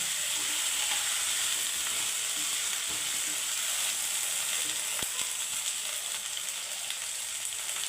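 Okra pieces stirred with half a spoon of turmeric in a hot pan, a steady loud sizzle and frying hiss running throughout with occasional faint scrape of the spoon, no voices.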